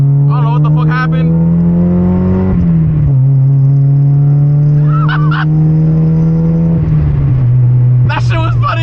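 Mazda Miata engine revving hard, the tone dropping sharply as the throttle cuts out after a shift into second, then climbing again; loud and close, with short shouted voices breaking in between.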